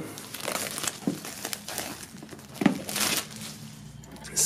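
Plastic shrink wrap on a Du Maroc CD box set crinkles and crackles in irregular bursts as it is peeled off, close and fairly quiet, with sharper snaps near the start and middle.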